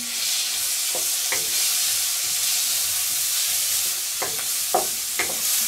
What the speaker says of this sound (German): wenn ich den Lüfter hier ausmache, hört man es auch so gleich brutzeln